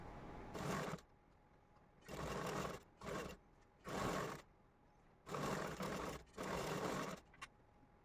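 Sewing machine stitching the lining of a puff sleeve, six short bursts of fast mechanical whirring separated by quiet pauses, close and moderately loud.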